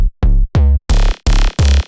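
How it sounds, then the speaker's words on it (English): A thumpy 808 bass sample layered with a plucky, gritty synth plays six loud, punchy hits in a choppy rhythm, each with a deep booming low end, and no one talks over them. "I like to layer this one with the Thumpy 808, which sounds like this."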